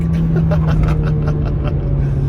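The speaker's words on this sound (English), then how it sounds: "drop down to fourth and listen to that VTEC." A Honda Civic FN2 Type R engine drones loudly and steadily in fourth gear after a downshift, a sustained low engine tone heard from inside the car with no speech.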